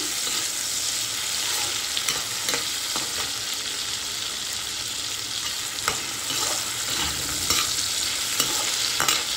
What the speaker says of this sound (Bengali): এবার এর মধ্যেই আমি কিছুটা পরিমাণে গোটা জিরে আর এলাচ আর দারচিনি ফোড়ন দিয়ে দিলাম।